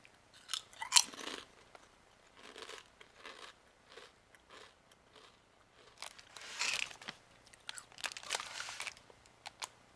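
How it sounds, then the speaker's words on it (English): Loud, close crunching and chewing of hard, brittle lemon and olive oil kale chips, with sharp bites followed by rhythmic crunches, a few brief bursts of voice mixed in. "think of it like a really crunchy potato chip, and really, and I mean crunchy"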